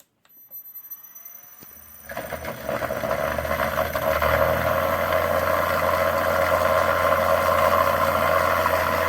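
A self-charging electric scooter setup, an electric motor spinning a generator in resonance, starts up after a quiet moment and settles into a loud, steady, close motor whine and hum that holds without pause.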